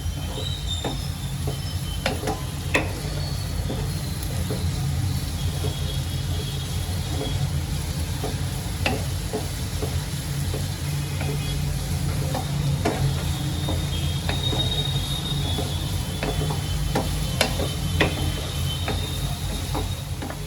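Onion frying over low heat in a pan for paneer bhurji, a steady, fairly loud hiss and sizzle with low rumbling and scattered clicks of stirring, continuous throughout without talk.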